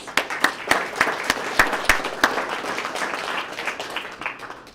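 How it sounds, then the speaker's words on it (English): Applause at a police swearing-in ceremony, with an audience clapping steadily and a few sharp, close individual claps standing out over the crowd at fairly loud level. "Let's give her a round of applause."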